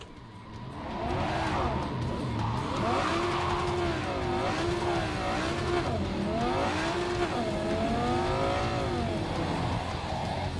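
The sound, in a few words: car driving with engine revving in video game Cyberpunk 2077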